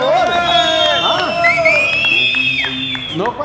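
A lively crowd shouts, whoops and cheers in loud, overlapping voices throughout, with excited calls rising above the din during an extreme sports challenge; individual claps are not distinct.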